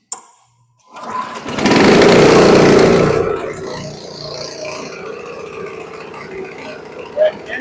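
A 1999 Honda snow blower engine catches after a sharp pull of the starter grip, bursting into a loud roar for about a second, then settling into a steadier, quieter idle with a brief rev near the end.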